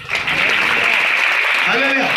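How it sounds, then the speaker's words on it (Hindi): A church congregation claps together while a voice carries over the top, the applause and talk running loud and continuous throughout. "ताली बजा के।"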